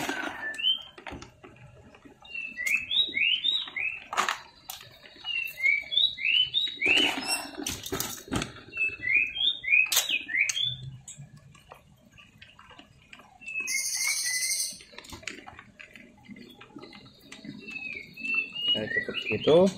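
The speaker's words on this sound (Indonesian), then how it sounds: "Burung gue semua gacor" Several small birds chirp and trill in quick bursts, close by, with scattered clicks and rustles between their calls.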